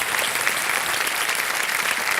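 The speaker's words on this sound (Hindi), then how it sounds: "धन्यवाद तालियों के साथ सर। आपका अभिनंदन करते हैं।" Studio audience on the Kaun Banega Crorepati game show claps in a dense, even burst of applause, loud and close, holding steady throughout with no voices over it.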